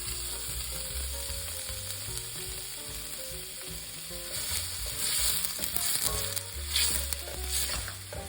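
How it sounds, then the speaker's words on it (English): One small-to-medium onion sautéing in a pan over medium-high heat, with a steady, continuous sizzle that swells slightly in the second half, heard under a tonal background and with no talking. "we're just gonna let that saute until the onion is nice and translucent"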